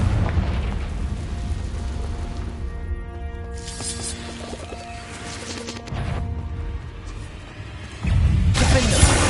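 Confringo blasting spell explosions in Hogwarts Legacy, loud bursts and crashing booms cutting through busy magical combat noise, with a strong blast near the end.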